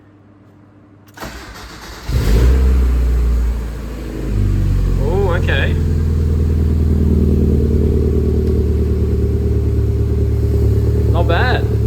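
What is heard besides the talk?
car engine first start with new welded exhaust system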